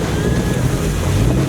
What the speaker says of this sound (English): There's tons of these mud holes just filled up with water out here, burying the exhaust, but not the intake, luckily.